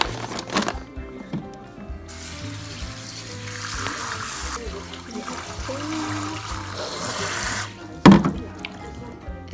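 A kitchen tap runs into a sink while frozen shrimp are rinsed under it: a steady rush and splash of water, a brief quieter start, and a sharp clunk and splash near the end.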